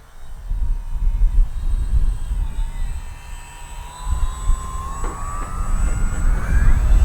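An Arrows Husky RC airplane sweeps past on a touch and go, its small electric motor whining and shifting pitch as the throttle rises and falls, with a fading then returning drone and steady outdoor background.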